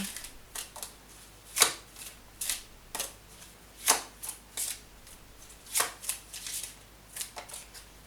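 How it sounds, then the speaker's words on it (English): Quick bursts of card shuffling, several separate riffles with short pauses between them, close up and crisp, no voices. "you saw me shuffling"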